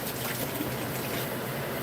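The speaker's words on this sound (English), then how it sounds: "Gonna add a little water to this." Water poured a little at a time into a pancake-style batter for a Southern soul food dinner, a steady close splashing and trickling wash that runs without pause.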